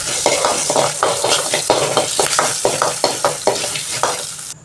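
Urad dal roasts lightly in sesame oil in a pan, stirred in a quick rhythmic series of scraping strokes over a steady sizzle.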